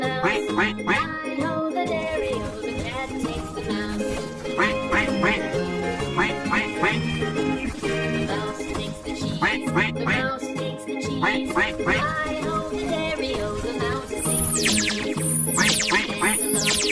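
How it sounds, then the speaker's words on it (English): Cartoon duck quacks repeated in quick bursts over busy, bright children's music, the nasal calls mixed into a loud, continuous soundtrack. "Duck."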